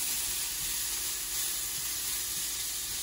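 Carrot and capsicum fry in a pan, giving a steady, dense sizzle that stays loud and even throughout with no talking.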